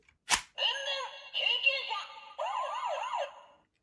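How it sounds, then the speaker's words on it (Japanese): A sharp click, then a small electronic siren on a toy ambulance car warbles up and down in three bursts, tinny and close, with no voices. "サイレンの音はパトカー1、2と一緒なんですね"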